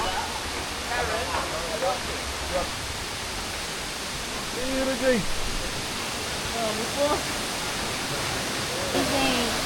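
The cascading water of Mag-Aso Falls, which drops over several levels, makes a constant broadband rush. It sits steadily in the background while people talk over it now and then.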